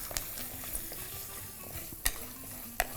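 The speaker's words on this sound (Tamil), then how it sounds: "இதில் சின்ன வெங்காயத்தை போடுறோம். அதே மாதிரி 1 கை பூண்டையும் போட்டுருவோம். போட்டு நம்ம வதக்கணும்." Shallots and a handful of garlic sautéing in a pan, a soft steady sizzle with a few sharp stirring clicks of a utensil, close but fairly quiet with no talking.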